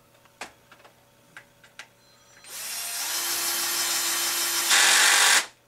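A power tool whirs for a few seconds, tightening screws on the top front plate of a Turtle Racing Baja 5T RC car, after a handful of small clicks and taps; the motor rises to a louder, higher pitch near the end before stopping.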